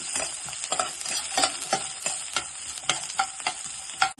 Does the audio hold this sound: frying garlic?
yes